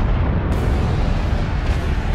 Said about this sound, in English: Nuclear explosion.